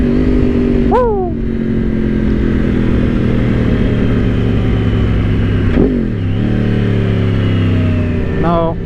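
Yamaha R1 and Honda CBR1000RR sport motorcycles racing past 140 mph, a loud sustained engine roar heard from on board, with three sharp rising revs as the rider shifts through the gears, and faint talk underneath.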